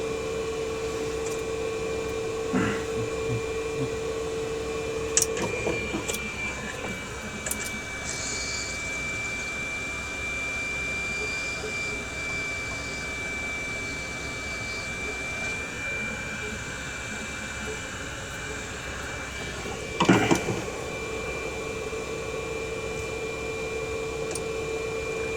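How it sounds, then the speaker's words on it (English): Hot air gun heating solder on SMD resistor pads, a steady continuous airy rush with a constant tone held throughout, broken by a few faint clicks and a brief louder clatter near the end. "using the hot air gun, we'll heat the solder and set the resistor into it"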